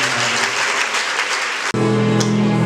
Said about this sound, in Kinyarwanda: tubukomeye amashyi y'ishima rikomeye